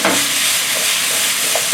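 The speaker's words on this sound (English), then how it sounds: "So I'm gonna make a bunch of vegetable stir fry" Zucchini and squash stir-frying with roasted garlic and pepper, a loud continuous close sizzle and hiss from the hot pan, no voices, brief and steady.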